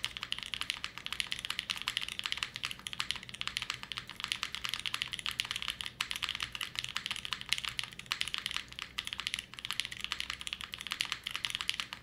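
Fast continuous typing on a freshly built Alas 60 mechanical keyboard, a dense patter of crisp close clacks with no talking.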